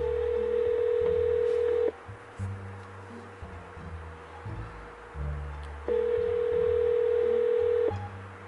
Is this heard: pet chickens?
no